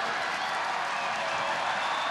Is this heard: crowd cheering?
yes